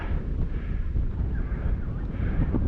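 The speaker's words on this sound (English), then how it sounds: "Oh, the wind's picking up." Wind rising on an outdoor hilltop at Kookaburra Crest, heard as a loud, constant low rumble and buffeting against the microphone with no talk.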